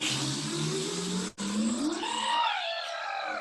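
A voice imitates a rocket engine blasting off with loud flapping, spluttering lips, a brief pause for breath, then a rising, whooshing sweep that fades out, close and alone.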